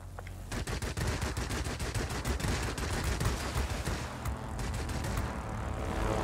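Aircraft machine guns firing in the World of Warplanes game, from a Russian Yakovlev Yak-3 fighter, long rapid bursts of rattling fire over a steady engine drone, loud and sustained with no talking.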